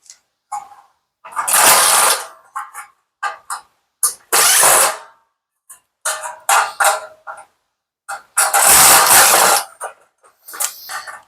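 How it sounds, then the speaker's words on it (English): Screws being backed out of a Samsung dryer panel with a power driver, several separate whirring bursts of a second or two with short mechanical clicks between them, close and loud with no talking. "on this side, we've got 3 screws that we're going to take out"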